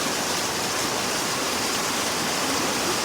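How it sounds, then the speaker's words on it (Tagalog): Strong floodwater rushes during Typhoon Egay in Occidental Mindoro, a loud, steady broadband roar that continues unbroken with no clear voices. "Grabe yun, lakas ng tubig."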